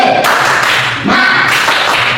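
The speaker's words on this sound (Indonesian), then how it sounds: "1, 2, 3, tepuk semangat." A classroom of standing students does a quick group spirit clap, a few sharp, loud claps ringing out together in a short burst with no talking over them.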